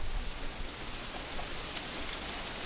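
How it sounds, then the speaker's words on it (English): Heavy, pounding rain in the visual novel Katawa Shoujo pours as a steady, dense hiss of countless drops striking surfaces, loud and unbroken with no voices. "I can barely make out Lily's voice over the deafening pounding of the rain"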